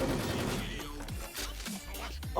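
Automatic rifle gunfire in the Wolfteam shooter game, a dense rattling burst of rapid shots filling the short stretch, with some indistinct game noise mixed in.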